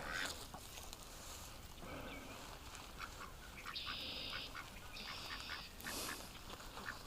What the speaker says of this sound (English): The ducks, they like their corn snacks.